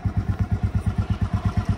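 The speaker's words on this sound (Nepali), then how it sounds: "अब हामी बुलेट बाइकमा जानेछौँ सर" Close by, a Bullet motorcycle's single-cylinder engine idles in an even, loping thump-thump rhythm, loud and steady with nothing else over it.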